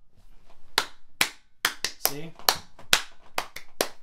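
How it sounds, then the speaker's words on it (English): Sharp hand claps ring out about nine times at an uneven pace, close and crisp. Someone speaks briefly between them. "Watch, clap."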